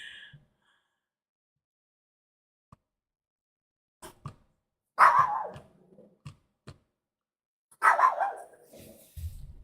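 A dog lets out two loud, close barks separated by a few seconds of near silence, with scattered small knocks and clicks between them and no talking.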